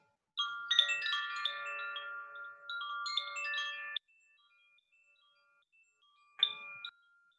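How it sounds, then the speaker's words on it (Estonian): A small bell rings in a mini yoga session, with bright, clear chiming tones sounding in one long shimmering run, a short pause, then a single softer strike that fades out. "Ja lase sellel kellukese helinal ennast liigutada ja lõdvestada."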